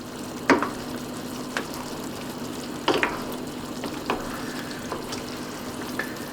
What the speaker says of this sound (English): Let's give this a stir. Put this all together.